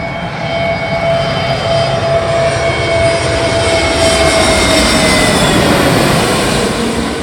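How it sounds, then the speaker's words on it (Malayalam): An IndiGo passenger jet approaching at Kochi airport, its engines giving a loud sustained roar with a steady whine that swells gradually, heard alone from near the back side of the field. "ഇൻഡിഗോ ഫ്ലൈറ്റ് വരുന്നുണ്ട്."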